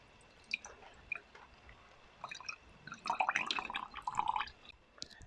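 Water drips and trickles after a banana plant, a Musa Siam Ruby tissue-culture plantlet, is watered with fungicide solution. Close, scattered drips and wet patters come in a busier run near the middle and then thin out.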